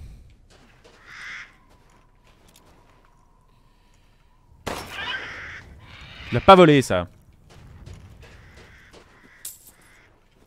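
Crows in the horror video game Resident Evil Village give a few harsh caws, mostly around the middle, between quiet stretches, with someone speaking French over the sound.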